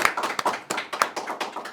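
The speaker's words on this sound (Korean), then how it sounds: "네, 박수 부탁드리겠습니다." A small audience at a political communication forum applauds, with distinct sharp claps in an uneven, moderately loud burst for nearly two seconds.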